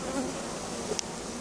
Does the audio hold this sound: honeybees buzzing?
yes